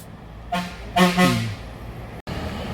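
A vehicle horn honks twice in short blasts over steady road rumble as traffic passes on a rural road in Idukki, Kerala.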